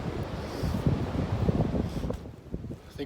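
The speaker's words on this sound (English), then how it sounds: "This wind is still whipping, and it's cold." A strong, cold wind roars and buffets on an exposed rim trail in Linville Gorge while backpacking, a dense, gusty rush that eases off slightly near the end.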